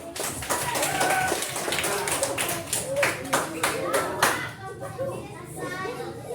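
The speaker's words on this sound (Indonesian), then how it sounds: "Tepuk tangan" A group of children in a classroom claps together in rhythmic bursts amid chatter and young voices, the claps sharp and close, fading out toward the end.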